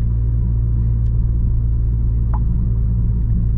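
An Audi with a straight-through exhaust rumbles loudly from inside the cabin, a deep steady drone with a faint pop or two, nobody speaking.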